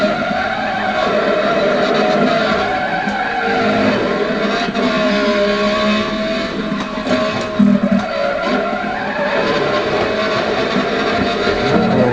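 A Ferrari Challenge race car at speed on a track, its loud engine a sustained high whine that rises and falls through gear changes and corners, with a brief rough patch midway.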